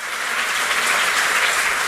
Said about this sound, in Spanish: Yo quiero que se dé hoy día un aplauso a usted mismo